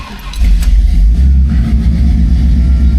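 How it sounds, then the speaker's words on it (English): A 1969 Oldsmobile 98 with a 455 V8 and custom exhaust cranks, catches and revs, settling into a loud, deep, rumbling idle close by. "Let's go ahead and get the Olds started."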